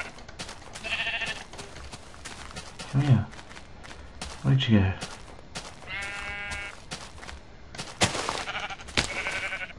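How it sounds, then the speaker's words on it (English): Minecraft sheep bleat in a few short, wavering calls in the game while a player talks over and between them. "Another sheep."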